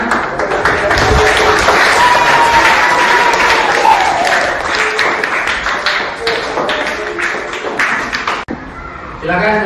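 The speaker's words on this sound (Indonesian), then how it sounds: "Tepuk tangan." A classroom of students claps after a group presentation in a lesson on the perimeter of flat shapes, with dense, loud applause and scattered taps and thumps that fade out near the end.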